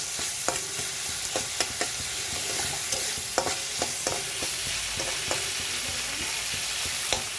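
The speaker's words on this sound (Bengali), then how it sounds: "চিংড়ি মাছটা দিয়ে দিলাম জালটা বাড়িয়ে দিলাম" Shrimp rubbed with turmeric and salt fry in spiced masala in a pan over raised heat, a steady loud sizzle with frequent stirring clicks and scrapes throughout.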